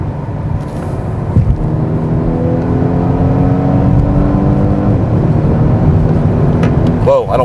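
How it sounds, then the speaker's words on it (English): A 2019 Volvo S60 speeds up from 45 to 55 mph, its engine and road noise forming a steady, moderately loud hum heard from inside the cabin, with a faint tonal whine climbing gently over several seconds. "I'm just going to hit the accelerator."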